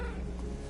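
A short, faint cat meow in the video game Midnight Suns, a single brief cry heard on its own over a soft game background.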